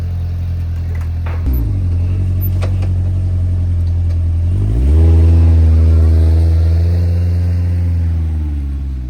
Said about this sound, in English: Get my truck off it.